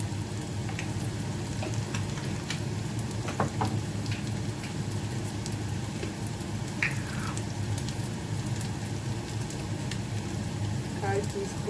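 Mustard seeds sizzle and crackle in hot oil for a Jaffna-style beans milk curry, a steady close frying hiss with occasional small pops, while a person talks faintly in the background.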